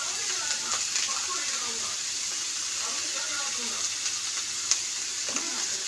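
Fish curry masala with salt sautéing in a pan, a bright steady sizzle with scraping stirs and small pops, heard up close with no voices over it.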